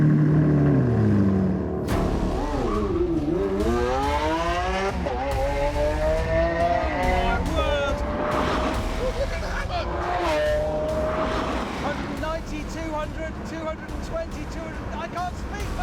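A Rimac, a Lamborghini Aventador and a Honda NSX race, with loud engines rising and falling in pitch through repeated revving sweeps and one long, steady high tone, while someone talks over the noise.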